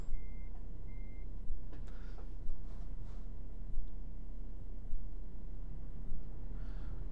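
Reversing beeps of a truck coupling a trailer in Los Angeles in American Truck Simulator, a regular series of faint, evenly spaced beeps over a low idling engine rumble with soft brake hisses.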